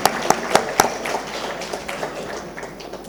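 Audience applause in a hall during a spice industry summit business session, opening with a few sharp, loud claps and settling into a thinner patter that fades toward the end.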